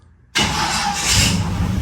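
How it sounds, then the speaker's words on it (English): A truck engine cranks and fires after a brief quiet moment, then settles into a loud, steady running rumble close by. "And then hold it down for 2 seconds until the truck turns on, and then let it go."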